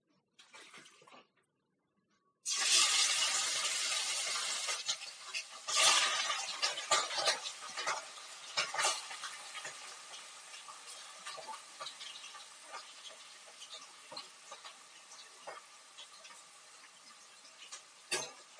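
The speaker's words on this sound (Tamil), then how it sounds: "ஸோ சிக்கன் போட்டதும் ஆயிலில் வந்து நல்லாவே ஃப்ரை பண்ணி விடுங்க." Chicken pieces dropped into hot oil on a low flame burst into a loud, steady hissing sizzle after a brief quiet start, crackling and popping continuously while gradually settling.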